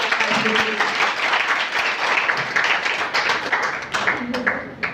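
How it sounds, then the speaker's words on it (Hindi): Audience at a women's poetry competition applauds in a continuous wash of clapping, with voices talking over it. "एक बार भरपूर तालियां हो जाएगा"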